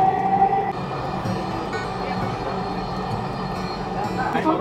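A Dhaka Metro Rail train runs along its line with a steady, moderately loud rolling hum and a faint whining electric tone, alone without voices.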